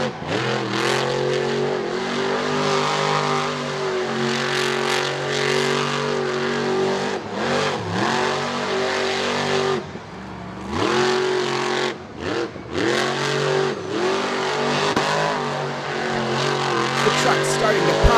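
A monster truck at a 2018 Charlotte Motor Speedway show revs hard while spinning a dusty donut with its front tire lifted and flames from the headers, its loud engine roar rising and dropping in repeated surges as a commentator talks over it.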